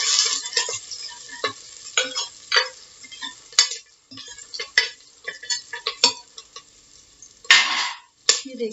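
Curry leaves and a single chili dropped into a little oil with fried garlic for an ajwain kadhi, giving sharp bursts of crackling sizzle with quieter gaps between them and occasional clicks of a utensil against the pan, close up.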